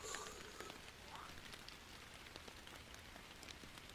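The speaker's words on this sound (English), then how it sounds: "The rods are out. It's raining." Rain in the fishing video game Fishing Planet falls as a soft, even, steady patter throughout, quiet and continuous, with no talking.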